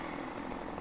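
A Husqvarna chainsaw in Farming Simulator 17 runs with a dense, continuous buzzing engine drone, loud and steady through a brief moment, with no one talking.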